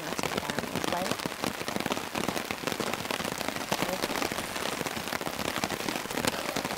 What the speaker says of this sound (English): Rain's coming in good.